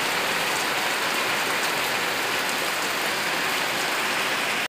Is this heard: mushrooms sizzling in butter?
no